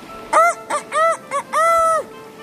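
A rooster crows near the microphone in five loud, hoarse calls, starting with short bursts and ending with a longer drawn-out cry, over quiet outdoor background.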